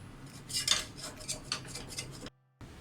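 A knife is run around the inside of a cooker to loosen a rice-flour kalathappam, making a close run of light metallic scrapes and clinks that stop abruptly near the end before a faint sound returns.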